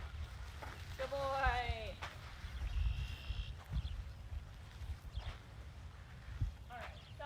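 Horse hooves clip-clop with uneven low thuds on the ground, heard close during a meet-and-greet at a horse turnout, while indistinct voices call out over them.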